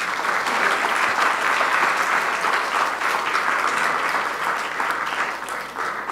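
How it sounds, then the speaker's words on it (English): A full room of students and attendees at a talk gives a sustained round of applause, steady and close throughout, tapering slightly near the end. "Let us give her a round of applause"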